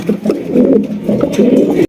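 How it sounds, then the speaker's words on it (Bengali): A pair of black Danish pigeons cooing close by, a steady run of low, throaty coos repeating with little pause, then cutting off abruptly. "এখানে রয়েছে একজোড়া ডেনিশ কবুতর ব্ল্যাক ডেনিশ"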